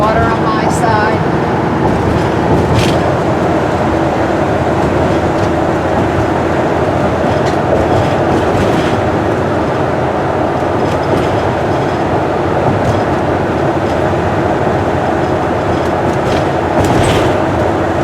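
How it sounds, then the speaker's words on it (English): A train rumbles along steadily beside a lake with a rhythmic rail clatter and occasional faint wheel squeal, people talking over the noise. "That train over there looks like it's just going right through the lake."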